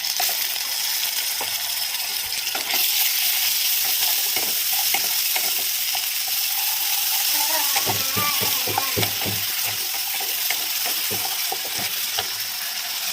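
Ginger-garlic paste hits a pan of frying turmeric, cumin and chili powder, a steady loud sizzle running throughout, with spatula scrapes and taps growing busier toward the end.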